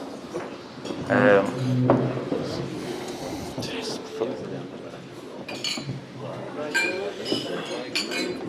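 Glasses and cutlery clink at a wedding reception as guests stand for a toast, scattered bright chinks and rattles mixed with murmuring crowd chatter and nearby talk.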